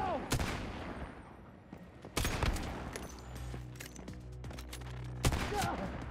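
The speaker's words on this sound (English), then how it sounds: "Open fire! Now!" Gunfire in the survival game Once Human: several sharp, loud volleys about two or three seconds apart, with a rumbling combat backdrop and scattered smaller shots between them.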